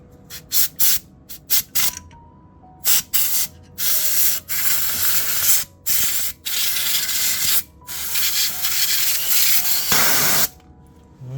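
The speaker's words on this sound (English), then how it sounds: "Let me just try and spray some of it out." Loud hissing bursts of spray into a faulty computer, first short quick puffs, then longer sustained blasts with brief pauses between, very close.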